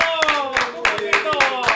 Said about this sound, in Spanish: Aplausos a Toño Rosario, Corillo